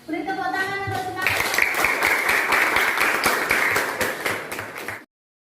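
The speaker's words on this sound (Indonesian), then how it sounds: "Beri tepuk tangan untuk semangat." Schoolchildren clap in a rapid, sustained burst of loud, close claps that lasts several seconds and then stops abruptly, after a short spoken line at the start.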